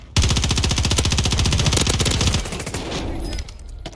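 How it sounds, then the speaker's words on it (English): Marksman rifle fired in an online shooter video game, a loud rapid burst of closely spaced shots lasting about two seconds, followed by a fading echoing tail and lighter sounds, with no talking over it. "I have a marksman rifle."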